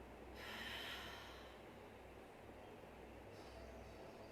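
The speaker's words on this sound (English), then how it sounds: "Take a deep breath. Spine is straight. Exhale now from your mouth." A long, airy exhale through the mouth during a yoga breathing exercise, a steady rushing breath that fades, then a second softer breath begins, close and unaccompanied by speech.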